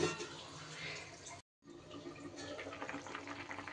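Water pours into a pot of drumstick curry with lentil dumplings, making a continuous close splashing rush that cuts out briefly and then resumes.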